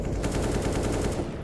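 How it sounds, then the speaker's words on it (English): Automatic rifle spray from Counter-Strike during a professional G2 versus Entropiq match at PGL Major Stockholm 2021: a dense, loud, rapid burst of gunfire that runs steadily through the whole moment. "As Nico sprays through the smoke."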